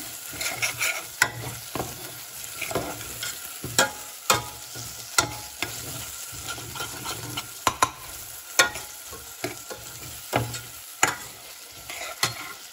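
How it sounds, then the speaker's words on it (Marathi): Onion sautéing in a pan for pav bhaji, a steady close sizzle punctuated by frequent sharp spoon scrapes and taps against the pan as it is stirred, with no voices. "आपला कांदा थोडा परतून घ्यायचा यामध्ये"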